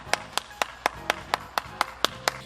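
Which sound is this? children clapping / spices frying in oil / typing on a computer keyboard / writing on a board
children clapping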